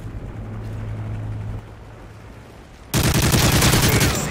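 A Hind attack helicopter arrives amid gunfire in Call of Duty: Modern Warfare 3; a low rotor drone gives way to a sudden loud, dense burst of rapid gunfire and rotor noise.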